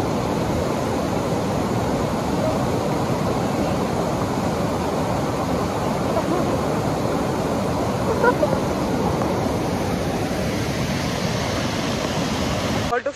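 Steady broadband roar of a waterfall in Rishikesh fills the whole span, close and continuous, with a voice speaking faintly beneath the rushing water.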